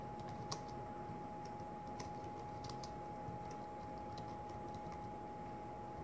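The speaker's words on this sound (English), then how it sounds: "Let's try typing something." Light, steady keystrokes on a Microsoft Wedge keyboard paired with a Samsung Galaxy Tab S10.5, quiet rapid taps over a constant hum with a few sharper clicks, no voices.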